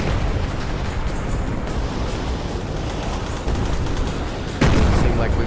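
Dense, continuous battle din of mortar explosions in Plastic Battlegrounds, during a Vietnam zombie attack, with rumbling blasts and gunfire-like crackle layered together and a sharper, louder burst near the end.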